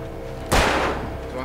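A single gunshot from the last round fired in the video game Alan Wake, a sharp loud crack with a booming tail that fades over about a second against steady background game sound.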